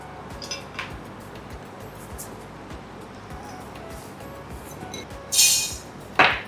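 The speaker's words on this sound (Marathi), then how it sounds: "मी या सगळ्या कैऱ्या चिरून घेतो" A knife chops raw green mangoes on a board in a series of soft rhythmic taps, ending in two louder clinks near the end, with no talk.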